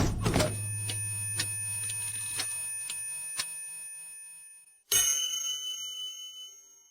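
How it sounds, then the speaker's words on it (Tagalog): A bell is struck once with a strong attack. Its metallic ring decays over several seconds while faint repeated taps sound, and then a second sharp bell strike rings out loud and close. "narinig niyo ba ang tunog ng kampana?"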